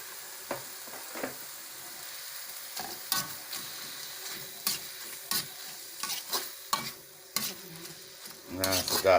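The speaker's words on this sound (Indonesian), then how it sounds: "Nah, ini biar mendidih, biar matang" A coconut milk and spice mixture for Balinese lawar cooks in a pot, with faint sizzling and bubbling broken by repeated stirring scrapes and clinks of a utensil against the pot.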